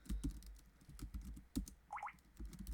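Quick bursts of keystrokes on a computer keyboard, close and crisp, come in uneven clusters with short pauses, over a quiet room.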